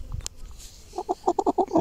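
Four-month-old chickens hatched in an incubator cluck in a quick run of close, repeated calls on a village farm in Romania, with no talk.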